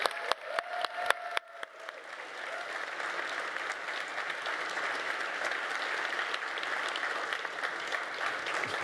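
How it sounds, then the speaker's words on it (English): Audience applause for the keynote speaker, the lead designer of the C# language, at the Umbraco Codegarden 2022 conference: a few sharp claps at first, then steady, sustained clapping from a large crowd throughout. "Please give a big round of applause to lead designer on the C# programming"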